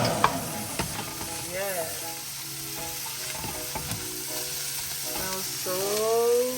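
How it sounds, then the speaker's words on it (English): Food sizzles and fries in a pan heated for a curry and chop suey meal, a steady hiss under faint speech, with utensil clinks and stirring scrapes scattered throughout. "I'm gonna turn the pan on so you can hear."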